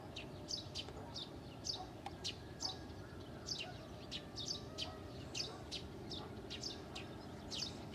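Small birds chirp and trill in repeated short bursts at sunrise beside a corn field near Nevinnomyssk, steady and moderately distant over a soft outdoor rumble.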